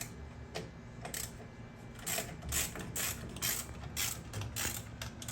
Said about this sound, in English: 7/16 12-point ratchet